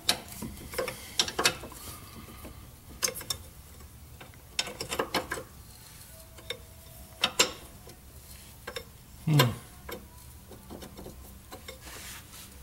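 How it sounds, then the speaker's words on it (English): A 22 mm wrench ratchets on a ball joint bolt in a truck axle swap, giving quiet, sporadic bursts of clicking and metallic ticks separated by short pauses, fairly close. "Using a 22 wrench up here on top."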